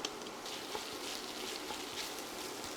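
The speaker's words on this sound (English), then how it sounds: "Then I like to throw the fresh potatoes in," Onions, celery and fresh potatoes saute in a pan on an induction burner set to 275 degrees, giving a soft, steady sizzle and crackle that stays faint and even throughout.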